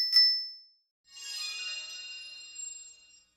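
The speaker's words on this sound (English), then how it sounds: "Said the girl on the bike, and rang her bell at the frog." A bicycle bell gives a short bright ding, then a second ring rings out with a longer shimmering, metallic tinkle that slowly decays, heard alone in silence.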